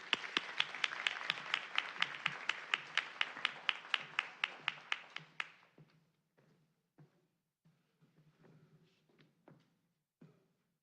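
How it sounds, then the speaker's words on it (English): An audience at a school board of education meeting claps for student artists, a brisk run of distinct claps that thins out after about five seconds into a few scattered last claps in a quiet room. "let's give them one final round of applause"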